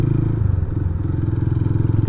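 A Honda motorcycle with a faulty electric starter dynamo is kick-started, then runs with a loud, close, rapidly pulsing engine throb and some mechanical clatter throughout.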